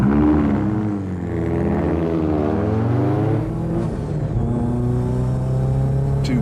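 Two Rover Coupe cars set off on a 24-hour endurance record run, their engines revving loudly and climbing in pitch as they pull away close by, with no voices.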